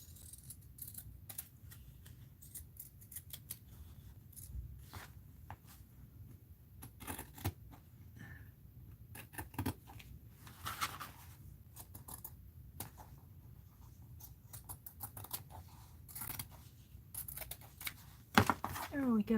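Scissors snipping fabric washi tape at close range, with a quick run of small cuts and rustles, faint and intermittent beneath soft talking.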